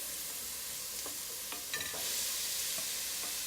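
Onion, bacon and mushroom sizzle together in hot olive oil for a Polish hunter's stew, a steady close crackling hiss with a few sharp pops and stirring scrapes. No one speaks.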